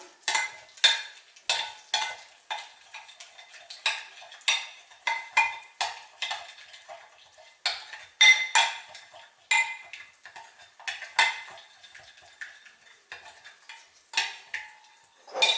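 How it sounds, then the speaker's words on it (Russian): A spoon clinking and scraping against a bowl in a steady rhythm, stirring cheeseburger patty ingredients with barbecue sauce repeatedly at close range with no talking. "Все хорошенько перемешиваем."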